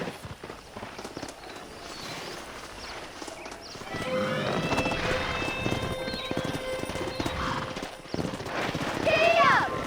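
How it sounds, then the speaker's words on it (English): Horse hooves clip-clop in a quick gallop in Red Dead Redemption while a horse whinnies, with people talking over the steady hoofbeats. "let's see if we can't wrangle some horses"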